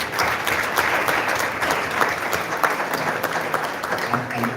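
Crowd applause celebrating a wedding, steady dense clapping from a gathered group that carries on through the whole stretch, with some talk mixed in underneath.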